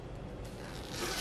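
The zipper of a small convention tote bag is pulled, making a quiet, close, continuous scraping rasp that brightens slightly toward the end.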